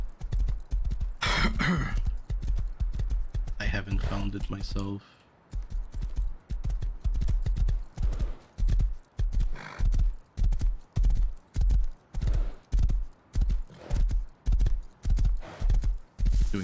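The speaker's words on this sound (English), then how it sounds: "There's gotta be like a good way to ride the forest on a horse." Horse hooves clip-clop in a video game forest, a steady, evenly spaced run of hoof beats that are loud and near, with someone talking over the opening seconds.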